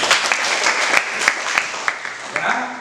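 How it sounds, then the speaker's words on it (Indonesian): Students clap together in a classroom after group presentations, a close, dense burst of applause lasting a few seconds with sharper individual claps standing out. "Tepuk tangan buat"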